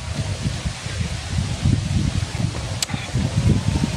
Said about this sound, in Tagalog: Mahangin. Libre ang aircon dito, napaka-fresh.